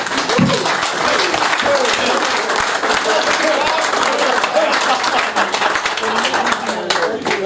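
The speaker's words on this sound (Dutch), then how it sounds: "persoonlijk wil ik die zelf even bedanken voor deze avond met een applaus" Sustained applause from a gathering at a reunion of former members of the Dutch sports club Sportlust '46, dense steady clapping throughout with some voices mixed in.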